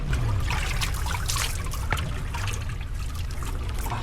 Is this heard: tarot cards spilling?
no